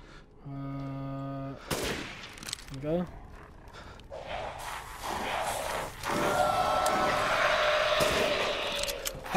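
Shotgun and pistol fire during the Alcina Dimitrescu boss fight in Resident Evil Village: a few sharp gunshots among groans, game effects and a rising roar, with no speech.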